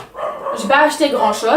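A dog barks a few times in short bursts, close by, mixed in with someone talking over it.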